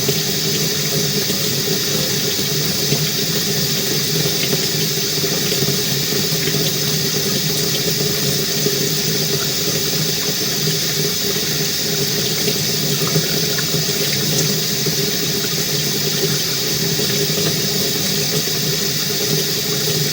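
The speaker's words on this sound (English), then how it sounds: "You can see that the water is flowing through here as well." Water rushes steadily through a drain line being flushed in a house, a constant broadband hiss and gurgle that stays even and continuous throughout with no talking.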